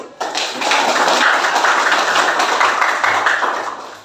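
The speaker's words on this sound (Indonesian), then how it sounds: "Ayo tepuk tangan dulu." A classroom of students applauds together, a dense, steady patter of hand claps that starts abruptly, holds at an even level for about four seconds and then tapers off.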